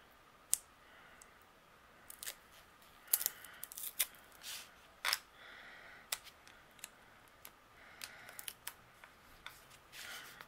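Paper for a handmade greeting card is trimmed close by, with quiet sharp snips and clicks coming in irregular bursts against near silence.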